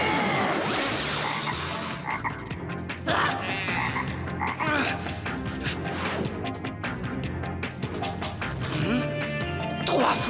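A toad croaks over and over in a cartoon magic-spell scene, with loud, rapid, raspy calls that run throughout and a few crashing knocks in between.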